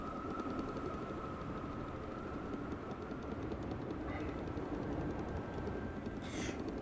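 A train ride in the video game Astroneer: a steady, even rumble and broadband rolling noise throughout, with a faint tonal whine and a brief brighter squeal near the end.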